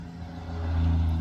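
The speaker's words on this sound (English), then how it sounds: "Whenever I'm filming, a loud truck goes by." A loud truck drives past outdoors, a steady low engine rumble that swells and grows louder toward the end as it nears, with no talking.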